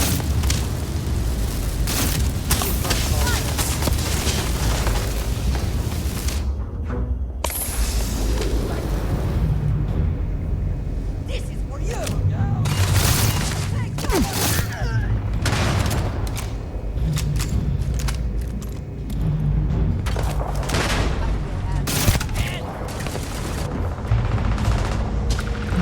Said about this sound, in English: Sounds like one of the turrets out here somewhere is shooting people.